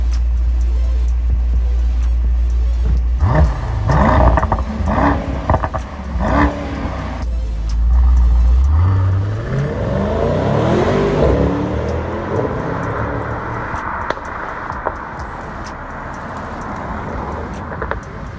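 A Mercedes-AMG GT63 S with a Stage 1 tune revs hard and accelerates, its pitch climbing and falling through gear changes, loud and close with some road noise.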